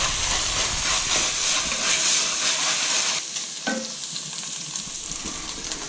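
Beef and pork browning in a pan for ragu bolognese give a loud, dense frying hiss and sizzle that drops noticeably partway through. A few light utensil scrapes follow.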